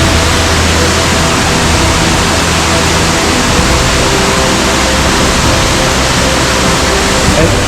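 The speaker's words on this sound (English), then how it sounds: "What a powerful waterfall though. You can just hear it roaring behind me." A powerful waterfall near a hiking trail in Stowe, Vermont, roars as a steady, dense broadband wash, loud and unbroken throughout with no distinct events.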